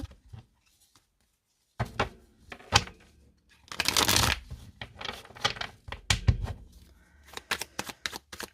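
A deck of oracle cards is cut and shuffled up close, giving scattered papery flicks and taps, then a longer riffling burst midway and more short card slaps and rustles, with no talking.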